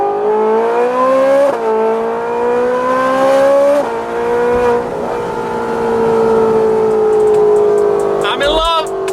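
A Ferrari fitted with an aftermarket exhaust revs hard and loud, the engine note climbing in several sweeping pulls with brief drops between, ending in a sharp crackling burst up close.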